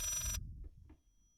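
A telephone ringing in the horror game Layers of Fear, one bright ring that cuts off abruptly, leaving a low hum and a couple of faint soft knocks.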